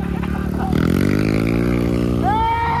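A motorcycle engine revs up on a muddy trail ride, its pitch climbing steadily and holding high, close by, with some clatter and faint background voices.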